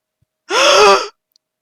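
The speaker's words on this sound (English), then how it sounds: "that gasp hurt my throat" A single sharp, loud gasp, a strained intake of breath lasting about half a second, alone in silence.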